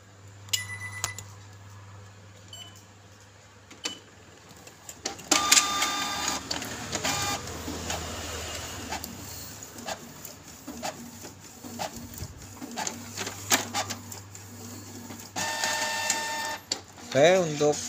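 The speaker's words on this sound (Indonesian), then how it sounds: "untuk print test nozzle sudah bisa." A Canon MX497 inkjet printer prints a nozzle check test, whirring and clicking as the carriage shuttles in mechanical bursts, with someone speaking at times over the machine noise.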